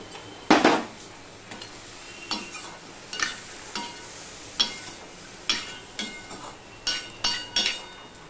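Lentils are stirred into a pot of ridge gourd and water on the stove in a home kitchen, with a dozen or so regular scraping and clinking spoon strokes against the metal over a faint simmer.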